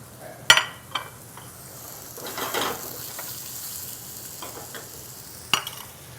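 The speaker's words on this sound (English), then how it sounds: "Hear the sizzle." Turkey burgers sizzle in a hot pan with a soft steady hiss, broken by a few sharp clinks of a utensil against the pan.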